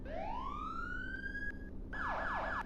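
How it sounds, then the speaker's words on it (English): A synthetic police siren in a Roblox game rises in one long upward wail, then switches to a rapid repeating yelp, loud and clean with no voices. "So all of the sirens are perfectly exactly normal."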